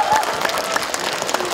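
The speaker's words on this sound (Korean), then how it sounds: "면민 여러분 다 같이 고맙다고 박수 한번 쳐주시면 고맙겠습니다" At an outdoor township day festival in Jinan's Ancheon-myeon, Korea, residents give a round of applause, a dense, steady burst of crowd clapping with faint voices mixed in.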